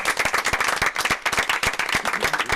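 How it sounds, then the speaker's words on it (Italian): Audience applause at an Italian Sunday television show, dense rapid clapping from a nearby crowd with sharp individual claps standing out, sustained and loud throughout with no talking. "Un grande applauso a Marino, a Bruno e a Marta, grazie di aver partecipato."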